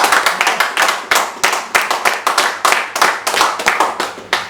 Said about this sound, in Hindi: मैडम के लिए जोरदार तालियां।